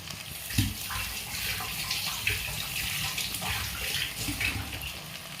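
Shrimp being rinsed under a running kitchen tap, a steady close stream of water splashing continuously for several seconds with no voices.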